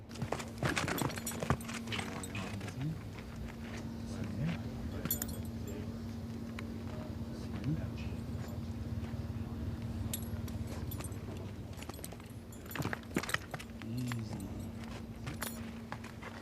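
Semi-wild Turkish horses, bridled, clip-clop irregularly on hard ground, with jingling tack and a steady low hum underneath.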